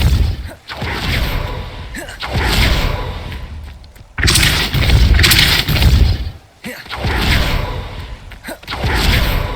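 Depulso force spells cast in Hogwarts Legacy during Merlin trials, a series of loud whooshing blasts with thuddy impacts and crashes, repeating in bursts separated by short gaps.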